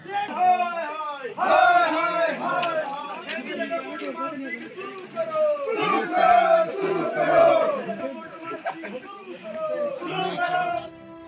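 Villagers from a Joshimath valley protesting over a missing road chant slogans together in loud, rhythmic bursts of shouting voices, nearby and energetic, with crowd chatter between the chants.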